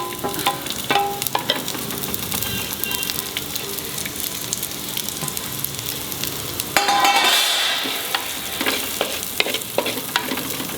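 Onions frying in oil in a pan over a low gas flame, a steady close sizzle with occasional stirring scrapes, the crackle briefly swelling partway through as the pan is disturbed.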